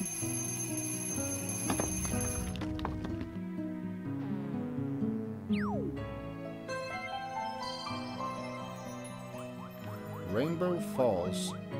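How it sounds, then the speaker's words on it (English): A cartoonish alarm clock rings in the video game Kirby's Epic Yarn, chiming over bright, layered game music with tonal sweeps and jingles throughout. "Alarm clock."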